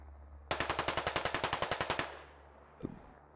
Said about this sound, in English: I hear a lot of gunshots going on right now